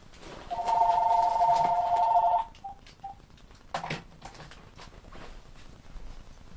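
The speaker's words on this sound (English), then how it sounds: "I got an annoying phone ringing." An indoor telephone rings in one loud electronic burst of about two seconds, followed by a few faint short beeps and scattered knocks in a quiet room.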